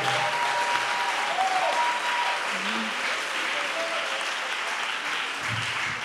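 A church congregation at a thanksgiving testimony service claps steadily for the Lord, a dense, even wash of applause lasting throughout, heard from within the crowd with no distinct voices on top.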